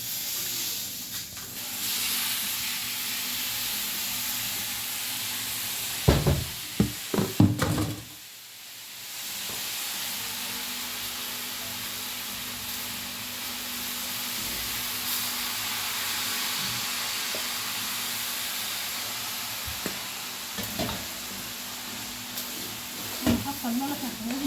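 Vermicelli and salt fry in a pot with a steady, broad sizzling hiss, broken by a few clattering knocks of stirring and utensils, with occasional talk nearby.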